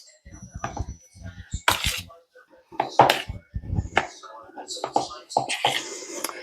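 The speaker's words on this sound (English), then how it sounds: "I'm just going to stir this in" Welsh rissole mixture is worked in a bowl with a utensil, giving scattered clinks, scrapes and soft wet knocks under frequent talking.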